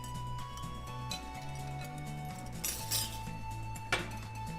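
Graham crackers being mixed with melted butter and sugar in a bowl, faint clinks and light scrapes of a utensil against the bowl over a quiet background hum.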